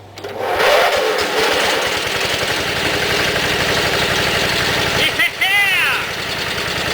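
A Craftsman GT18 lawn tractor engine, jumped directly at the starter, cranks and catches, then runs at a steady loud idle for several seconds with a person's voice and a brief whistle over it.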